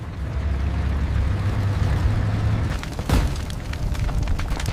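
A high-explosive shell detonates in a wartime tank battle, a low rumbling roar followed by a sharp, loud blast around the middle and crackling debris after.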